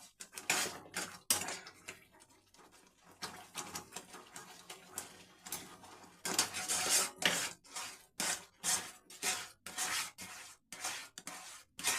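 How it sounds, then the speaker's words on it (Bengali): A spoon stirs tomato halwa in a pan over a low flame, giving repeated scraping and clinking strokes in an uneven rhythm, close and fairly quiet. "গ্যাসটা লো ফ্লেমে করে এইভাবে আস্তে আস্তে লাড়তেই থাকবো নাহলে নিচে ধরে যেতে পারে"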